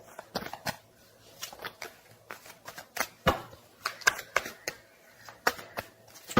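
Rapid, irregular papery flicks and taps of tarot cards being shuffled up close, in quick uneven bursts.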